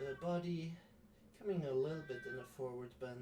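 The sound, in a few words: pet cat meowing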